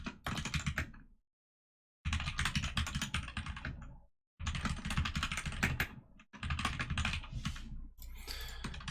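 Fingers type a commit message on a computer keyboard in fast, dense bursts of clicking, close up, broken by two short silent pauses.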